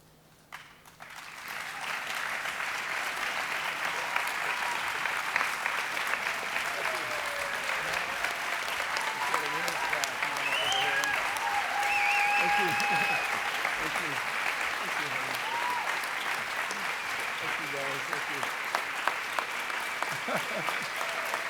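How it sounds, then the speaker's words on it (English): An audience applauds Dr. Mark Ottenweller at an honoring event. The clapping rises quickly and holds as a long, steady, dense ovation, with scattered voices and faint talk mixed in. "We're just going to let them keep clapping"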